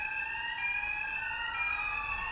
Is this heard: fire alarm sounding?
yes